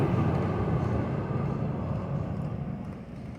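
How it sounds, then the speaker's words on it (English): An inbound GO Line light rail train passes at the 17th Street railroad crossing in Sacramento, a steady low rumble that slowly fades toward the end. "111, 107 inbound GO Line train."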